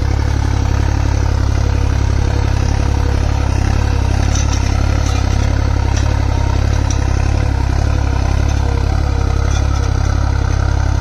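A tractor with high-low-medium gearing runs fast in second high gear while pulling a harrow, its engine a steady, loud low drone with rattling clatter throughout.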